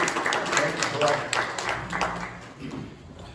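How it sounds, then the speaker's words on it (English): An audience gives a round of applause at a NAACP candidates forum, steady clapping for a few seconds that fades out, mixed with talking. "Let's give a round of applause for Mr. Keller and Mr. Fitzpatrick"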